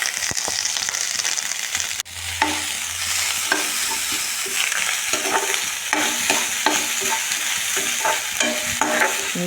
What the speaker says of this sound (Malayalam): ഇത്ര സാധനം നമ്മൾ ചട്ടിയിലെ എണ്ണ ഒഴിച്ചിട്ട് നമുക്ക് വറുത്തെടുക്കാവേ.